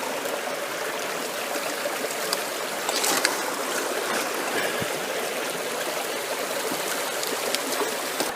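Water splashes and rushes over gravel being rinsed during placer gold prospecting outdoors, a steady close wash with occasional rattling clunks of stones.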